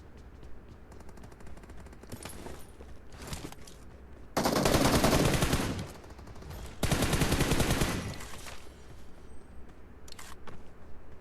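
Bursts of rapid automatic gunfire in PUBG Mobile, two loud sustained volleys with quieter scattered shots and clicks between them, no talking.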